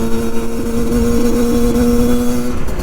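A Yamaha DT 50cc two-stroke motorbike engine drones loud and close, holding a steady buzzing pitch as it overtakes.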